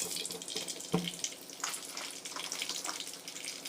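Mustard seeds splutter in hot oil in a kadai for lemon rice, a faint crackling sizzle with one sharp pop near the start, quiet and without talk.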